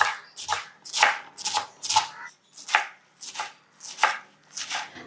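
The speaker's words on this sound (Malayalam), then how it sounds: "നല്ല കനം കുറച്ച് തന്നെ ഇങ്ങനെ നുറുക്കിയെടുക്കാം" A kitchen knife thinly slices bundled taro stalks on a board, with about a dozen crisp, quick chops in an uneven but steady rhythm, close up and clear.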